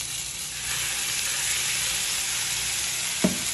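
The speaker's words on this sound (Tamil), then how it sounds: "ஒரு பே லீஃப், அப்புறம் இதில் வந்து பட்டை கிராம்பு ஏலக்காய் இருக்காது, அது கூட வந்து கொஞ்சோண்டு சீரகம் சேர்த்துக்கோங்க" A bay leaf and cumin seeds sizzle in hot oil in a pan, a continuous close crackling hiss with one brief knock near the end.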